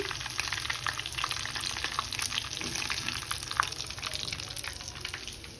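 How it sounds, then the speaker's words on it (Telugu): Food sizzling and crackling steadily in hot oil in a pan while cooking for mandi rice, a continuous close frying hiss with small pops and occasional stirring, no voices. "మంచిగా ఫ్రై అయింది ఇదంతా కూడా"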